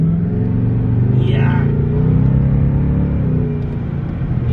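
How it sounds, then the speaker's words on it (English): A powerful Ford Mustang Shelby exhaust rumbles and revs up close, a deep throaty engine note swelling and settling. "You cannot get that sound from that exhaust."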